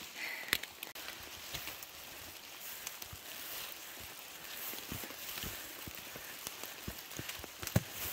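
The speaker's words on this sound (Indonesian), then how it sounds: "Hujan." Rain falls on a foggy mountain trail on Mount Prau via Wates in Central Java, a soft steady hiss scattered with close, sharp drips and taps.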